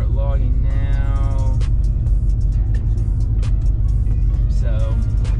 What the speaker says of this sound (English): so we're just gonna do some driving around and just go from there